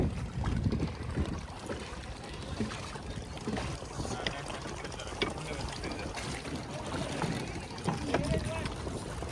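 A small passenger boat carrying four people on Dudhni dam, with steady broadband motor and water rumble throughout at close range. People talk over it now and then.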